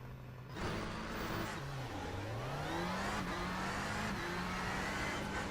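A race car engine in the iRacing simulator, revving up and down through the gears with rising and falling whines over a continuous, moderately loud drone.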